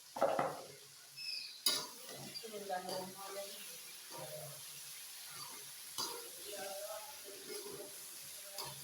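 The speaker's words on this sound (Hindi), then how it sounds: "इसमें हम डालेंगे अपने भिंडी," Okra tossed into a pan and stirred with a utensil for a home-style bhindi dish, giving a sharp clatter at the start and then soft scraping and clinks with faint sizzling, under intermittent talking.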